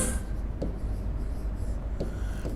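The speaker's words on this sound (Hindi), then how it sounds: "अब मैं एक सेंटेंस लिखता हूं, यहीं पर लिखता हूं" Chalk or marker writing a sentence on a classroom board during an English lesson, a steady close scratchy rubbing with a few short strokes and taps, heard alone.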